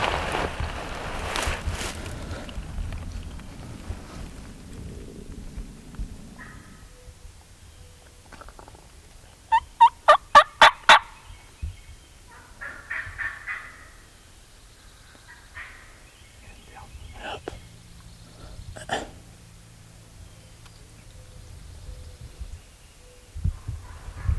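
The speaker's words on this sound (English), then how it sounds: "he shot gobbles right over the hill there" A wild turkey gobbles from somewhere over a hill on Alabama public land, a brief rapid burst of gobbling partway through amid quiet woodland, with a few other faint calls scattered around it.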